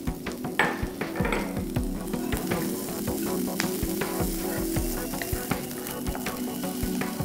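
Onion, garlic and fresh coconut frying in a pan for Andhra chicken curry give a steady close sizzle, broken by repeated spoon scrapes and stirring knocks throughout.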